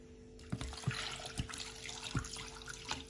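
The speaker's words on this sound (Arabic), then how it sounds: "نضيف عليهم 500 ملي مي" Water, 500 ml, poured into a cooking pot holding four chopped carrots, a soft liquid trickle with a few light knocks and splashes over about three seconds, close by with no voices.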